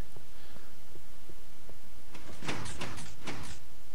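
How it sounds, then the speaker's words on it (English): A heavy door opens in a video game castle fortress with a series of loud thudding, rattling mechanical clunks in the second half, after a quiet stretch of faint ticks. "And here is the cool door."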